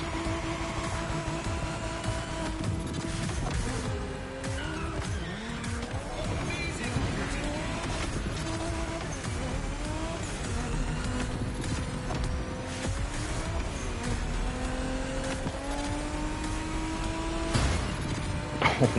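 A Toyota Supra racing in The Crew Motorfest, engine revving and shifting loudly throughout with rising and falling pitch, tire noise and impacts, under game effects.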